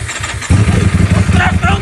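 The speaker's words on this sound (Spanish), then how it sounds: "La nueva moto del Rulas, chaval. Con esta sí que voy a conquistar a la Rulos. A ver cómo suena." A new motorcycle engine starts abruptly after a brief pause, settling into a steady, loud low rumble with speech-like voice activity mixed in.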